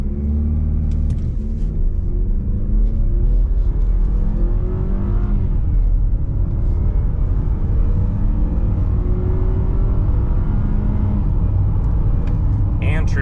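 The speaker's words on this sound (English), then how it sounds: "0 to 60 in the CX-50." 2025 Mazda CX-50 in sport mode with traction off launching from a brake rev to 60 mph, engine droning loudly through rising gears with shift dips, heard from inside the cabin with road rumble.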